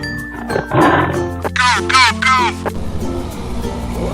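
Cartoon tiger roar in a children's animated animal clip, a short burst of rough growling calls in the middle, loud and close over background music.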